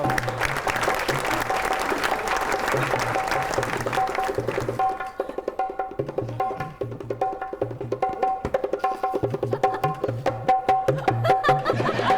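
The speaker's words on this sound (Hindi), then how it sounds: "तुसन ये तालियां दी गूंज च तशरीफ ले आंदे ने मकसूद आजम" Studio audience at a live comedy show bursts into loud, sustained applause for about five seconds, then the clapping thins and gives way to music.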